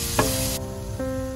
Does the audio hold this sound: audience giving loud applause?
no